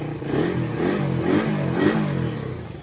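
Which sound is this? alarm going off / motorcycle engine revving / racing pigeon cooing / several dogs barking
motorcycle engine revving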